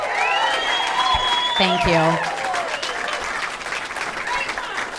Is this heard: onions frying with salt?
no